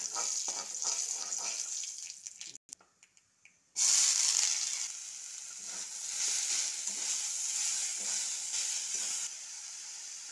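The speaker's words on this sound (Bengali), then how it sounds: "এবার দেব সর্ষের তেল। এবার ফোড়নে দেবে আমি সর্ষে," Mustard seeds and dried red chili are dropped into hot mustard oil. A sizzle and a few sparse crackles give way to a sudden loud burst of hissing, which settles into a steady sputtering fry.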